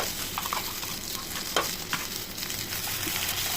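Ground spice masala with red chilli powder and turmeric fries in oil, sizzling steadily up close while a spoon stirs and scrapes the pan, with no talking.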